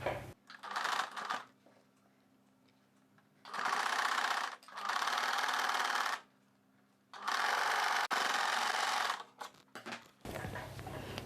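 A sewing machine stitches folded blouse fabric in several bursts of fast, steady whirring, separated by short pauses, close and clear.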